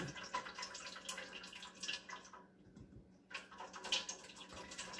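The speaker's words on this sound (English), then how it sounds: "I'm pouring this, I'm not pouring this down the drain because this is grease" Grease drained from cooked chili meat pours and drips into a container, a close, quiet liquid stream with spattering drips that briefly stops and then resumes, with no talking.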